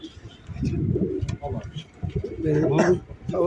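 Pigeons coo in low, throaty bursts at a breeder's loft, close by and mixed with people talking over them.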